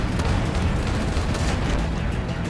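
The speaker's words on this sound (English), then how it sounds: "the shotguns are working for me" Shotgun fire in the video game Fumes, a dense, continuous roar of booming blasts, loud and close throughout with no clear gaps between shots.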